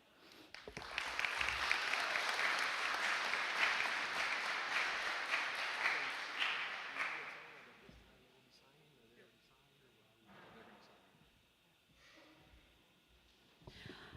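Audience applause at a high school sports awards ceremony, loud sustained clapping from a crowd lasting about seven seconds, then fading to quieter room noise with a brief spoken voice and a few scattered claps.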